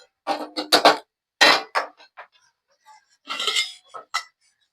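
A metal spoon clinks and scrapes against a pot while stirring a chicken dum biryani mixture, several short bursts of clatter separated by pauses, close and clear.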